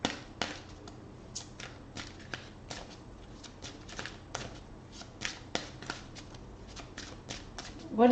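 Ascended Masters oracle cards are shuffled by hand, giving a string of quick, crisp riffling flicks in an irregular rhythm, close and fairly quiet against a soft room background.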